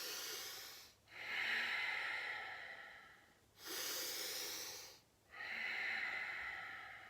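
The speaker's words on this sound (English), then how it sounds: "let's just take a couple really quick breaths just to get the lungs ready to move." Deep breaths drawn and released during a chair yoga warm-up, four long airy inhales and exhales in slow alternation, close and fairly quiet, with no talking.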